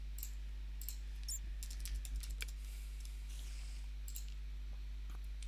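Computer keyboard keys clatter in quick irregular bursts, close and moderately loud, over a steady low hum, with no voices.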